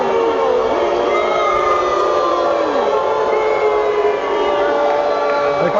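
A high school basketball crowd at a state championship semifinal roars and jeers over missed calls, a loud, steady wash of voices and whistling tones that fills the gym without a break.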